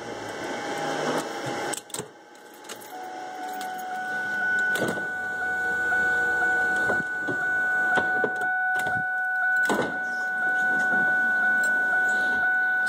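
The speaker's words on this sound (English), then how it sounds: "Well, and that's the fans." Cooling fans on a Mustang running steadily at close range, a constant whirring hum with faint tonal whine and a few brief clicks and knocks over about thirteen seconds, no talking.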